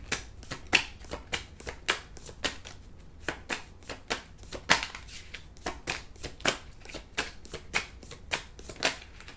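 Tarot cards shuffled by hand at close range in a steady series of crisp riffling bursts, about two or three per second, with no talk.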